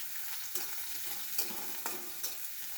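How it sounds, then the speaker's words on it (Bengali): Chopped onion and green chili fry in oil for a Bengali duck bhuna, giving a steady close sizzle with a few sharp stirring scrapes and clicks spaced through the short stretch. "এখন দেব পেঁয়াজ কুচি, দেব একটু কাঁচামরিচ। এখন এগুলিকে একটু ভেজে নেব।"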